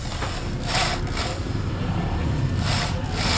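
Drilling into a stud bolt hole on a Honda Dash motorcycle head cover, a steady close grinding rasp with rhythmic pulses as the bit works the metal, running continuously without talk.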